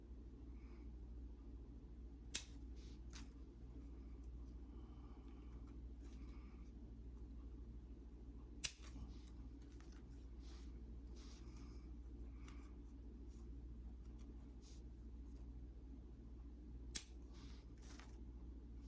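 Three crisp, isolated scissor snips prune branches on a variegated ficus bonsai, spaced several seconds apart over a steady low background hum.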